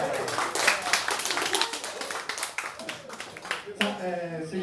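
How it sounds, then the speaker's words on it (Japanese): Audience applause and clapping after a live cover band performance, a steady patter of many hands under someone speaking Japanese throughout. "ペンギンもね、たくさんの拍手いただきました"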